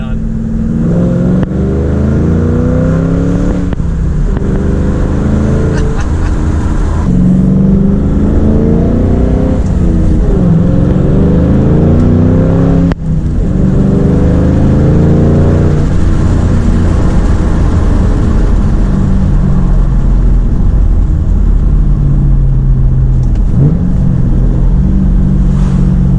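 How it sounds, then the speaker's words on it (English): A 2005-2009 Ford Mustang GT V8 engine pulls through repeated gear shifts on a test drive after a crankshaft position sensor replacement, with rising and falling revs droning loudly inside the cabin and a voice talking at times. "Test driving my car now."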